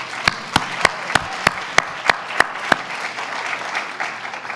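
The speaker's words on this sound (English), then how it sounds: "Let's give our Junior ROTC a round of applause." Audience applause at a State of the City address for an all-female Junior ROTC honor guard. Evenly spaced sharp claps sound close and fade into a softer crowd wash.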